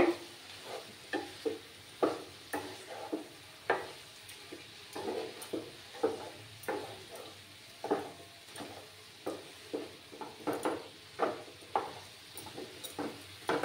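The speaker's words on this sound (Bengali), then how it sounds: "মশলাটাকে ভালো করে কষিয়ে নিতে হবে।" Masala for Bengali-style mutton curry is stirred and fried in a pan, giving a steady sizzle broken by regular scraping strokes of the spatula, close and moderately loud, with no voices.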